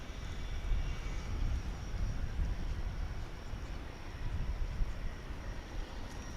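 Airplane flight from Austin arriving at DFW International Airport, a broad continuous jet rumble heard from a distance, steady and moderately quiet throughout with no voices.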